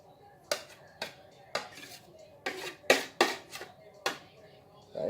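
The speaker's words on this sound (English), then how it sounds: "Then scoop the rest of this butter in here with the sugar." Butter is scooped into a bowl with sugar, sharp clinks and scrapes of a utensil against the bowl repeating at irregular intervals, close and fairly crisp with quiet gaps between.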